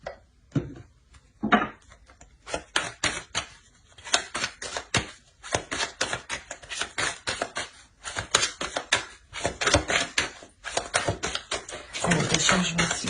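Tarot cards being shuffled and drawn, a rapid run of crisp flicking and snapping clicks, close and dry, in irregular bursts that thicken into a dense riffle at the end.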